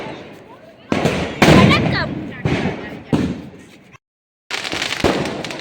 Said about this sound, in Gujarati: આમ ફટાકડો ફૂટીને એટલે જોજો ફૂલડો થઈ જાય